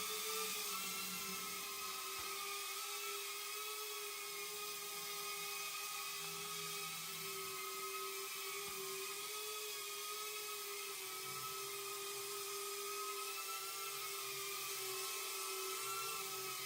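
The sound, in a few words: Snapper 7 RC helicopter motor running at raised throttle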